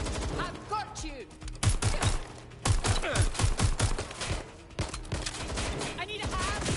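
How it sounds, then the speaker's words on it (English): Rapid bursts of gunfire in Watch Dogs: Legion, sharp repeated shots in clusters and volleys against a busy background, loud and close, with voices calling out amid the shooting. "Shots fired! Go and find cover!"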